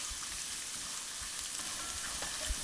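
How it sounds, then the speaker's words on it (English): Garlic sautéing in olive oil in a pan, a steady, moderately loud sizzle and crackle that runs throughout with faint occasional pops. "So as you allow this to saute, give it another minute till you just begin to see the dark brown specks that garlic brings."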